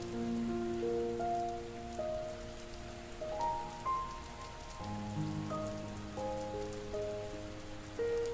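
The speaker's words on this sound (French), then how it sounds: "Le son de la pluie vous aide à nettoyer ce chakra" Rain falls steadily in a dense, even hiss of drops, continuous and close, with soft sustained meditation music tones layered over it and no talking.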